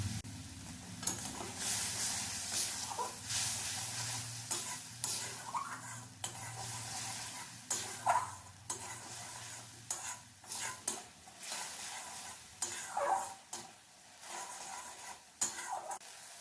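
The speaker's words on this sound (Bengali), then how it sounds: "বেশ ভালোভাবে এটাকে কষিয়ে নিচ্ছি আদা যাতে কাঁচা গন্ধটা চলে যায়" Ginger spice paste sautéing in a pan for an eggplant dish, with a soft steady sizzle and repeated scraping strokes of a spoon stirring against the pan, fairly quiet and close, with no talking.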